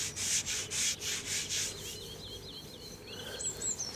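Buffing by hand on a boat surface around the heater and engine air-intake louvers of an Ocean Pirate 55, heard as close rhythmic rubbing strokes that settle into a steady abrasive hiss with faint chirps over it, with no voices.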